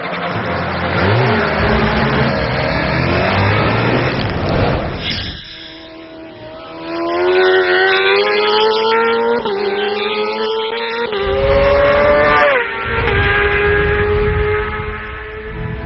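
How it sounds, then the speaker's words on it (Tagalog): A 600cc top-of-the-line Suzuki sport motorcycle races on an Asian road race circuit, its engine revving hard and climbing through gears in repeated rising whines, loud and close, with a rougher passing blur at the start. "si Maiko dito, pero sa Abril, lulan ang kanyang 600cc top-of-the-line Suzuki"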